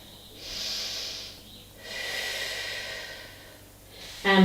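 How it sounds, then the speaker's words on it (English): Slow deep breathing during a standing Pilates stretch, a long airy inhale and a longer exhale with a soft pause between, close and alone. "One last breath"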